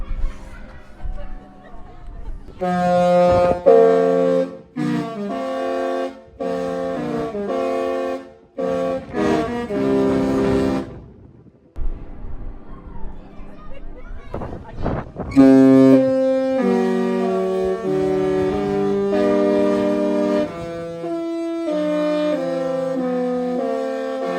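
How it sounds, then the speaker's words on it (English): Disney Wish cruise ship horns sound a loud musical tune of many sustained notes in phrases, some long and harmonically layered, with brief pauses between, heard outdoors on deck with wind noise and faint voices. "So 19 different notes that this ship plays."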